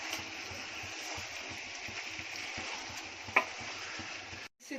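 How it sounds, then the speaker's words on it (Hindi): Mutton pieces sizzle steadily in a hot pot, a constant close frying hiss with a few faint stirring scrapes and one brief clink near the end. "10 मिनट मैंने फ्राई किया।"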